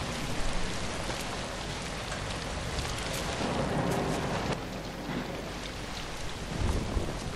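Rain pours steadily with rolling thunder in the zombie video game ZOMBI, a dense continuous downpour hiss with a deeper rumble swelling midway, no voices.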